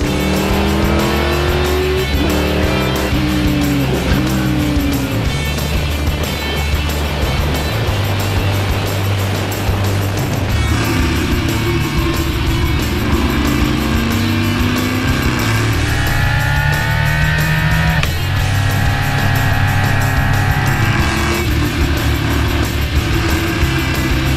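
A Kawasaki Ninja H2 motorcycle and a Stock Car race on a track: loud engines rise and fall through gear changes, with high revving passes and tire squeal, and no speech.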